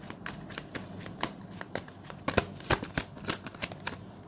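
Tarot cards are shuffled in a quick series of crisp riffles and slaps, each one a short sharp burst, close and alone with no talking.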